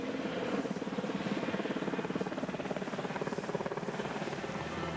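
A helicopter, such as one carrying a casualty with a lightweight stretcher, thrums steadily with rapid rotor chop throughout, loud and continuous with no talk.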